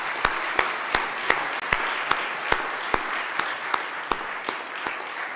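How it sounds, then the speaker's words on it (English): Applause from the audience at an exhibition opening and panel discussion, held for the visiting artists. Steady crowd clapping fills the room, with a dozen or so sharp, evenly spaced loud claps standing out above it. "I would like just to ask an applause for all these artists"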